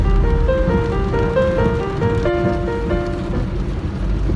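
Heavy rain pours steadily over a car's back window on a road, a dense continuous wash close to the glass, overlaid with clear stepped musical tones throughout.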